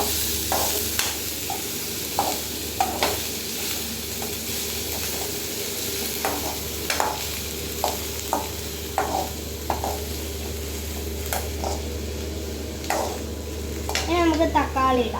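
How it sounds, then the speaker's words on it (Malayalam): Fish biryani masala being stirred in a pan, with steady frying sizzle and repeated scrapes and clinks of a spoon against the pan, close and moderately loud. "ഇനി നമുക്ക് മിക്സ് ചെയ്യാം."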